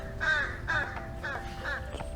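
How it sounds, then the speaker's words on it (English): Crows caw overhead outdoors, four or five harsh calls in a loose rhythm, clear and fairly close, with no talk. "Birds have an absolute orgy up there."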